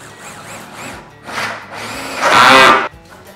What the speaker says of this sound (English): That will be my guide drill hole for this spade bit to go through.